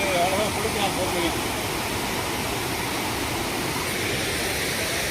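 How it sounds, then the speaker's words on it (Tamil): Mlamala Waterfalls near Kumily pours down in a dense, steady roar of rushing water that fills the scene up close. A faint voice is heard briefly at the start. "எந்த அளவுக்கு நீர் ஆர்ப்பரித்து சென்ற காட்சியை பார்க்குறோம்"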